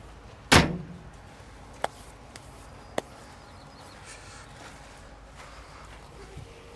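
The door on a John Deere 850L crawler dozer bangs open with one loud metallic clunk up close, followed by a couple of lighter clicks and a quiet background.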